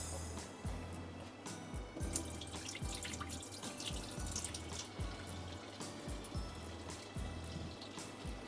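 Water is drained from soaked rice for chicken kofta pulao, trickling and dripping steadily with a regular patter of drops against a running, splashy wash, fairly quiet and close, with no talk.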